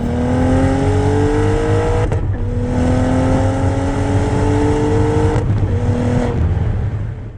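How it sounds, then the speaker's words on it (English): Loud turbocharged V8 car engine revving hard through the gears, pitch climbing steadily, with two brief dips at gear changes, close and continuous. "It sounded like a naturally aspirated small block V8."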